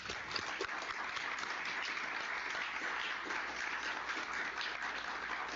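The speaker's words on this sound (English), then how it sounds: "So I just want to give a round of applause for Kathy and all the work she's continuing to do" Sustained audience applause at an MLK Day celebration, dense steady clapping from a crowd holding an even level throughout without pause.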